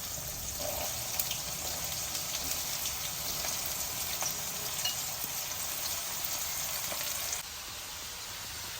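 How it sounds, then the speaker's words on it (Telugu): Chopped onions fry with cumin seeds in hot oil in a pan, giving a steady, close sizzle with faint crackles throughout. The sizzle drops slightly in level near the end. "జీలకర్ర వేగంగానే ఉల్లిపాయలు వేస్తున్నాను"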